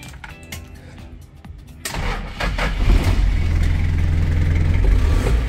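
A 1983 Taft F50 Hunter 4x4 diesel idles while warming up, starting with faint ticking and then settling into a louder, steady low rumble.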